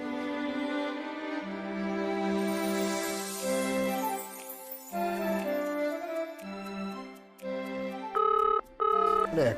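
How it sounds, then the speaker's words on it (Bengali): A telephone ringing in a domestic scene from a Bengali TV serial, a sequence of repeated melodic electronic ring tones, clear and fairly close, with brief pauses between bursts and no voices over it. "এখন আবার কে ফোন করছে?"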